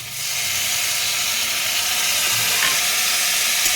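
Loud, even sizzle and hiss of spices and small green chillies frying in a pan for a fish curry, a dense continuous crackle heard up close with a few stirring clinks and no talking.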